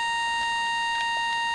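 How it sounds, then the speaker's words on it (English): Steady electronic beeping with a sharp, high sustained tone and a few faint knocks in the background, no voices. "But then you're gonna have that beeping."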